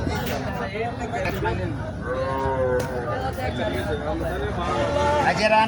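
Cattle low and moo repeatedly at a crowded Qurbani cow market in Bangladesh, heard close amid a constant babble of people talking and bargaining.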